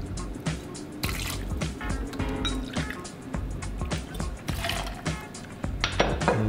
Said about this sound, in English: This is gonna go in the shaker, already has ice in it. And then we're gonna use 2 ounces of gin, using Tanqueray today.